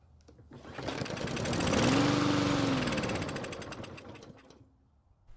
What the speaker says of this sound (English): Now that we know the engine has the ability to start and run